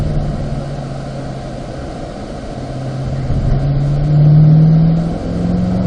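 A Corvette engine at Spring Mountain climbs steadily in pitch as the car accelerates out of a turn on the race track, a loud close drone swelling toward the end before easing slightly.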